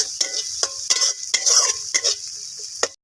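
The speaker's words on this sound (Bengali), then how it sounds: "এবার মশলাটাকে একটু কড়া করে ভেজে নিতে হবে" Masala spice paste frying hard in oil in a pan while being stirred, with repeated scraping stir strokes over a steady bright sizzle, close and fairly loud, no talking.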